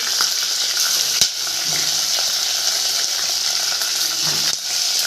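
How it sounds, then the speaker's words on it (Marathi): Green chilli paste sizzles loudly in a hot curry-leaf tempering for a buttermilk kadhi, a steady broadband frying hiss with a couple of sharp clinks of a spoon against the pan. "नंतर हिरवी मिरचीचं वाटण टाकते"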